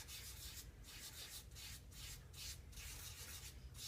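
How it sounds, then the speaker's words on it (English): Chalk rubs and swirls across a background coated with cosmetic ground, making a soft, close, continuous scratchy rasp with rhythmic strokes and no voices. "I'm going to get my chalk, rub my cosmetic ground on it, and swirl it around my lighter blue."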